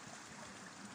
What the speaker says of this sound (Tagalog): Na-melt na ang snow. Bumaba na. Papunta sa dagat ang tubig.